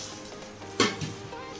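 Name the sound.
sev noodles frying in hot ghee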